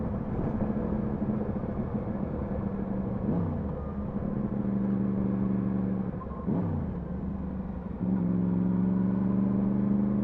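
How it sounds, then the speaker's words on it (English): Motorcycle engine droning steadily while riding a road in the North Pennines, a loud continuous rumble with wind noise and a few shifts in pitch as the revs change. "you should hear more of the bike engine as well"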